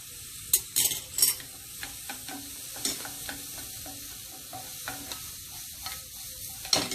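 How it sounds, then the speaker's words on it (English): Vegetables sauteing in a hot pan for a paneer-stuffed potato dish, a soft continuous sizzle broken by sharp scraping stirs and utensil clinks, close and fairly quiet. "So I just saute just a bit, like 1 minute more or less."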